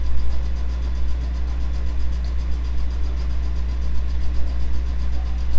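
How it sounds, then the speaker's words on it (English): Sewing machine stitching quilt fabric, a steady continuous motor hum and rapid needle chatter running evenly throughout without pause. "And we're just going to sew."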